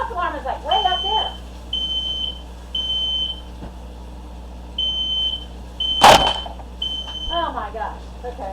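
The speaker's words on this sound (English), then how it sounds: "The smoke alarm is like way up there." Ceiling-mounted smoke alarm in a kitchen where tomatillo salsa verde is being made, giving repeated sustained high beeps at an even rhythm while people talk, plus one sharp clatter midway.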